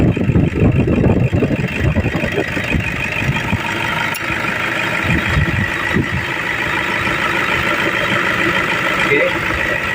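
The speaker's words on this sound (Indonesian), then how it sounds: "Oke, ini sudah dihidupkan ya. Ciri khas diesel ya, solar." A 2008 Toyota Kijang Innova 2.5L diesel engine with automatic transmission idles steadily throughout, a low continuous rumble with some background voices and handling noise early on.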